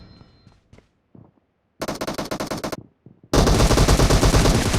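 A mini shotgun fires in a video game: a few scattered shots, then a rapid burst, then a louder, denser volley of close shots at the end.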